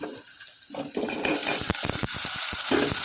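Chopped radish tipped into a frying pan with onion and asafoetida for sambar and then stirred, a soft sizzle followed by quick clattering spatula scrapes against the pan, close and continuous, no voices.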